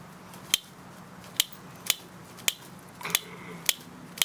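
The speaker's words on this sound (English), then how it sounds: "This is wire cutters." A series of sharp, crisp snips spaced about half a second apart, each a short metallic click of wire cutters biting through wire while building a one-way squirrel trap, fairly close.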